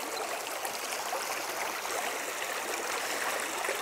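A stream flows steadily with a continuous broadband rush and gurgle, moderately close and unbroken, with no voices.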